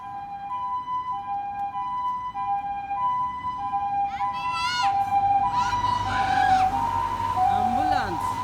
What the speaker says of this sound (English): Ambulance. What is that?